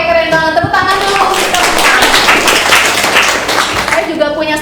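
A classroom group claps loudly in a quick, dense burst with talk and voices mixed in, starting and ending with tonal sounds and sharp taps, at an Indonesian university teacher-training session.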